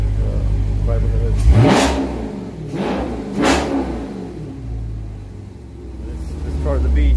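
A 2018 Dodge Scat Pack with the 392 engine and a fiber hood revs twice in sharp, loud bursts about two seconds apart, then falls back to a deep idle rumble.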